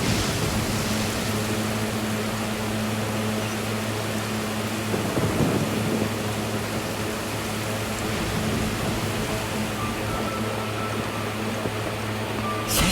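Thunderstorm with steady rain in the video game Genshin Impact: a dense, constant wash of rain with a low thunder rumble swelling near the middle, no one speaking.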